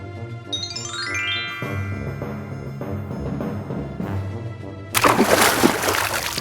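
Water splashes and sloshes as a vessel is filled, a sudden loud gush arriving near the end after a stretch of background music.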